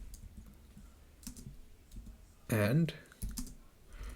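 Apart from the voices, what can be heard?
typing on a computer keyboard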